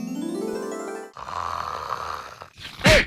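A person snores loudly in a Telugu comedy skit, a long rising rasp followed by a rougher rattling breath and a sharp snort at the end.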